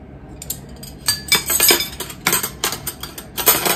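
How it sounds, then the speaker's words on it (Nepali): Spoons and forks clink against plates and each other during a hospital meal of spaghetti, salad and vegetables, a run of close, bright taps and rattles in irregular bursts. "चम्चा काँटाहरू है त"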